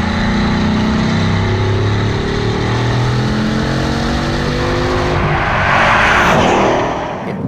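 A fast British turbocharged car accelerating hard, a loud close engine roar climbing steadily in pitch through the gears, swelling near the end before easing off, with no talking.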